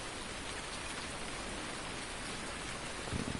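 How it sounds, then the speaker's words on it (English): Steady rain falls in the video game Farming Simulator 19, a dense even hiss of drops on surfaces that continues without a break, moderately quiet and with no talk over it. "Hopefully the rain goes."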